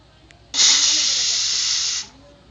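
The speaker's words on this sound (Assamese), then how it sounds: "কুকাৰ এতিয়া এটা চিটি মাৰি দিব" A pressure cooker on a gas stove releases a sudden, loud burst of hissing steam that holds steady for about a second and a half, then cuts off into quiet.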